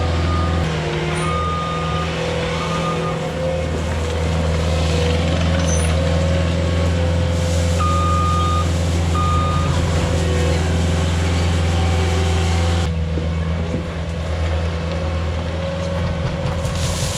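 A heavy truck runs steadily while spreading A gravel over a new four-acre parking lot. A deep engine drone continues throughout, and intermittent reversing beeps cut through it.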